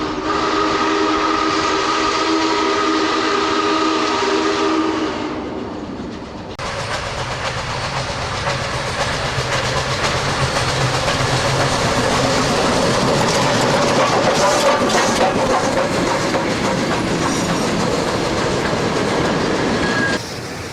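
SP&S 901 Challenger steam locomotive on a test run, heading toward the Elk Valley Western Railroad Museum: a loud, continuous rumble of the moving train with a sustained whistle-like tone early on, then steady clattering running noise.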